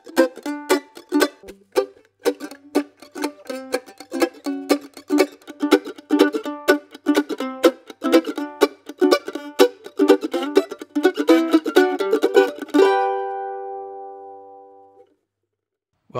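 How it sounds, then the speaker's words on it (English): Rapid percussive chord strums on a mandolin, bright and rhythmic, played alone for about thirteen seconds before a final chord rings out and fades. "let's have a listen to the chop chords."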